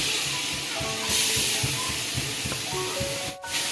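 Grated mango sizzles in hot oil over low heat, a soft hiss under steady rhythmic stirring scrapes, close by, with a brief louder burst partway through.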